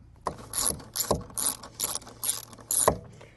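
A ratchet tightens bolts on Ford Bronco grab handles, giving six rapid bursts of close, crisp clicking at a steady rhythm with short pauses between strokes and no talking.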